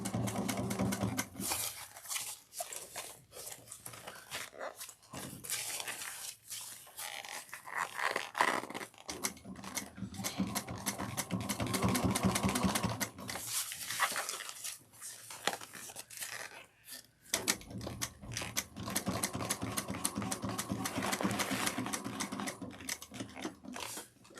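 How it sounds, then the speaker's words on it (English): A sewing machine runs in close, steady bursts of rapid stitching, back stitching and top stitching, stopping and starting again several times. "I like to back stitch 1 or 2 stitches, even though it's just top to stitching"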